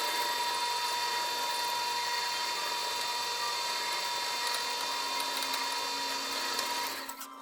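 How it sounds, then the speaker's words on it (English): An electric drill whirs continuously with a steady high whine, drilling a small pilot hole in a metal roller, running without pause for several seconds before winding down near the end. "I've got a smaller drill in there right now, but that's fine. I use it for a pilot hole."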